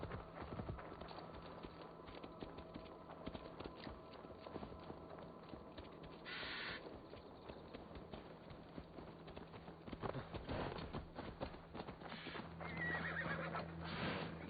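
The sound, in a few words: horse neighing and hooves clip-clopping in Assassin's Creed Valhalla video game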